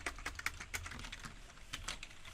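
Rapid keystrokes on a computer keyboard while entering an expression into the Desmos calculator, a quick irregular run of close, moderately quiet clicks with no talking.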